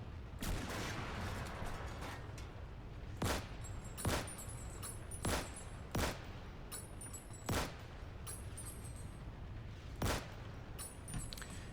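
M1 Garand rifle shots in the video game FHSW Berlin, a series of loud, sharp cracks at irregular intervals of about a second or more, over constant battlefield noise.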